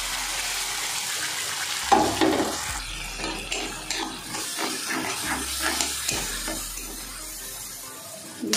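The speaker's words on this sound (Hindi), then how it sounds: "इसको अच्छे से फ्राई होने देंगे थोड़ा सा ताकि उसका स्मेल पूरा मसाले का स्मेल निकल जाए" Spice paste sizzles and fries steadily in a hot pan, a continuous hiss with a few louder stirring scrapes and spatters along the way.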